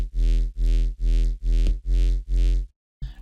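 A Theorem triangle-wave synth with LFO-pulsed level, run through a Grid effects rack, gives six loud, gritty, buzzing pulses in a steady rhythm, brighter and harsher than the dry tone, then stops.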